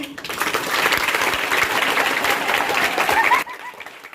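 A crowd claps at a school street play, a busy patter of hands lasting about three seconds before cutting off abruptly, with a faint voice beneath the noise.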